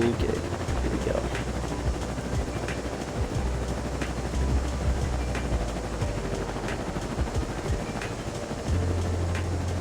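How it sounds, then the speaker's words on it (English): Small model airplane propeller spinning steadily, a continuous buzzing drone under a noisy background that runs through the whole stretch, with voices faintly present. "I need to turn the propeller on"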